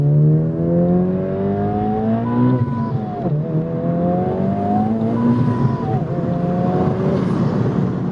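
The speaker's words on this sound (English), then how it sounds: "It definitely gives me a lot of smiles every single time I downshift and do a third gear pull." A tuned Honda Civic Type R making over 530 horsepower revs hard through a third gear pull, its engine tone rising steadily, dipping briefly at a shift and climbing again, loud and continuous from inside the car.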